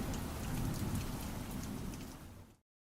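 Steady heavy rain from a passing thunderstorm, a dense close roar of drops pouring onto surfaces for a few seconds before cutting off abruptly.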